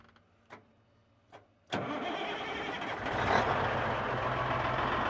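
An old mechanical Peterbilt 359 truck with a diesel engine clicks twice as the push button is pressed, then cranks and catches into a loud, rough idle that swells briefly with throttle, close by.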